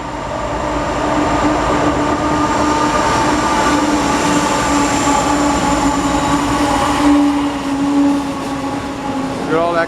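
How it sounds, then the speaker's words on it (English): A loaded coal train rolls past a woodland cutting, a loud continuous rumble of railcars and wheels with a steady metallic ring and brief squeal, close by, with people talking over it. "Here comes a train."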